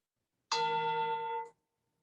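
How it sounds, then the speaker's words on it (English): A meditation app's timer sounds a single clear bell chime that rings out steadily for about a second, then stops abruptly in an otherwise silent room. "chime sounds as though I were in a monastery being summoned by a monk, clinging the bell to pray"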